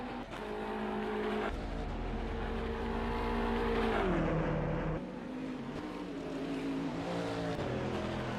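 GT3 race cars in a sim race at Lime Rock Park drone steadily at high revs, with the engine pitch rising and then dropping sharply as a car passes near, and a faint tire squeal.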